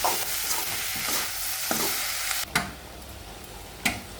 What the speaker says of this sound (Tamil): உப்பு சேர்த்து நல்லா வதக்கி வதக்கணும்